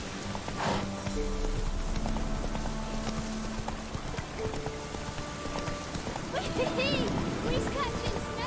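Roach the horse gallops in The Witcher 3 video game, steady clip-clopping hooves over a rain-like patter, with a voice speaking over parts of it.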